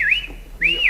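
A person whistles two rising-and-falling tones, each sliding up then back down, close and clear with a short gap between them and no talk.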